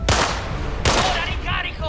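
Two loud gunshots from an enemy's gun in Indiana Jones and the Great Circle, about a second apart, each a sharp blast trailing into an echoing decay.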